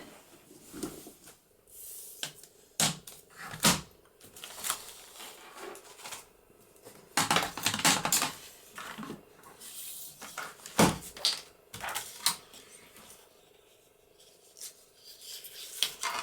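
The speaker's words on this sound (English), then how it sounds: "so let's cut some acetate" Acetate sheet is cut with scissors, giving sharp, crisp snips scattered irregularly over quiet stretches, with a denser run of cuts in the middle, close but faint, with no talking.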